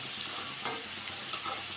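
Potatoes and carrots frying in hot oil for a cauliflower dish, a soft steady sizzle with light stirring scrapes and a few sharper pops, quiet and continuous with no talk.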